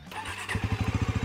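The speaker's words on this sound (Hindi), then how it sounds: "बाइक स्टार्ट कर लेते हैं, इंजन साउंड सुन लेते हैं, एग्जॉस्ट साउंड सुन लेते हैं।" A Bajaj motorcycle engine cranks and catches, then settles into a loud, rhythmic idle thump.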